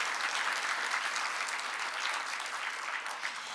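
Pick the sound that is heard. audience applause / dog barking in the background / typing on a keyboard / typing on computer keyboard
audience applause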